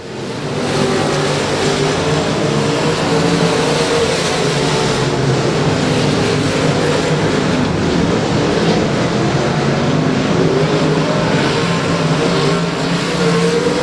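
Race cars at Rose Bowl Speedway roar past in a loud, sustained engine drone that swells and holds for the whole stretch, dense, close and with no voices over it.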